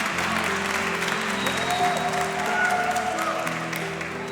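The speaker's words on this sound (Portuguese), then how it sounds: "Quando você for aplaudir, aplauda muito mais forte que isso" Church congregation at Igreja Vitória applauding loudly during worship, a dense sustained roar of clapping from a large crowd with musical tones and a few voices underneath, steady throughout and fading slightly at the end.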